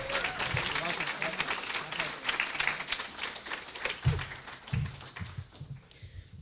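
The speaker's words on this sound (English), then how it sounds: "Can we please give her a round of applause?" An audience claps in steady, continuous applause for a speaker in a hall, with a voice talking over the clapping and a few louder thuds near the end as the applause thins out.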